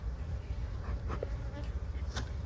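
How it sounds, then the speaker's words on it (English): Bees on the frames of a small colony during a hive inspection, a faint continuous buzz under low background noise. "there are a good amount of bees up on the frames"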